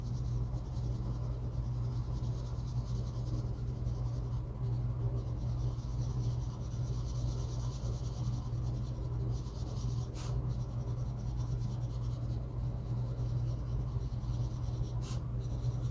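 Colored pencil rubbing steadily across paper, a continuous close scratchy shading sound with a low constant hum beneath and no speech.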